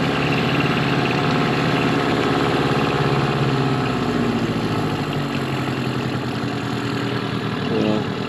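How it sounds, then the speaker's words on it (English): A Mercury 15 hp two-stroke outboard motor idles with a loud, steady, rattling drone that carries on without pause, close to the microphone. "So right now the engine should start on the first pull, which it does."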